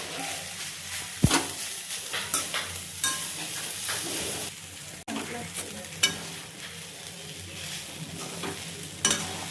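Poha, flattened rice, stirred and fried in a pan with curry leaves and peanuts, giving a steady soft sizzle broken by repeated scraping and clinking strokes of a spoon against the pan, close up with no talking.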